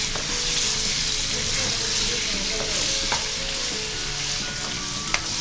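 Cumin, fenugreek seeds, salt, turmeric, ginger garlic paste and browned onions fry in a pot for palak gosht, a continuous loud sizzle with a few faint stirring clicks and no talking.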